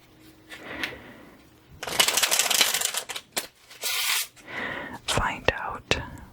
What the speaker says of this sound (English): So now we are going to pull out these playing cards